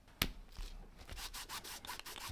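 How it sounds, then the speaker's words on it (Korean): A cloth rubbed back and forth over hand-sewn leather stitching on a leather golf cart bag, giving a steady run of soft, close friction strokes that swell and fade, with one sharper knock near the start. "천을 이용해서 바느질 부분을 이렇게 문질러 줍니다."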